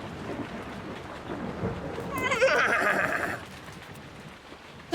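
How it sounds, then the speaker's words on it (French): Cartoon thunderstorm on a farm: steady rain and rolling thunder fill the scene while a horse whinnies loudly in the middle, with hoof clip-clops and a sharp knock at the very end. "Paquita est effrayé par l'orage, et Caramel aussi, bien qu'il essaie de faire celui qui n'a pas peur."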